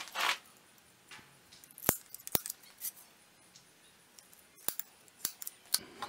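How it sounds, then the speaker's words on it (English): Several sharp, isolated metallic snaps of a spring punch marking steel for knife making ring out against quiet background handling, spaced unevenly a second or so apart. "I'm going to use my spring punch here."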